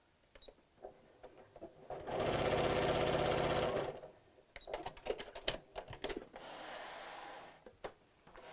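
A sewing machine stitches a cushion cover seam in a steady loud run of about two seconds, followed by scattered clicks and handling noises and a softer hum near the end.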